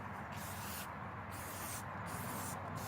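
Aerosol spray paint hissing from a can onto army surplus tactical gear, a steady broadband spray in bursts with brief pauses between passes, close and continuous.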